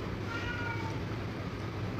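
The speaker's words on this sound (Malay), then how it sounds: "Kucing tu masuk kat mana?" A cat meows indoors in a home, with faint thin harmonic calls sitting under a steady background hum and room noise, fairly quiet and not very distinct.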